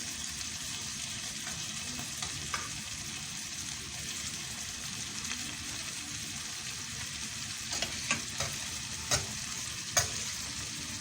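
Chicken pieces fry in butter in a pan for a grilled chicken sandwich, giving a steady, close crackling sizzle with occasional stirring and clinking utensil sounds toward the end.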